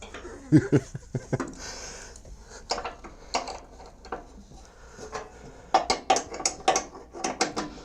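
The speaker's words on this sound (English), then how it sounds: "we're just going to snug this bolt up" Hand ratchet snugging a bolt during service on a Toro 277 snow blower: bursts of quick metallic clicks, an early cluster, scattered strokes, then a denser run of ratcheting near the end, close up with no talk.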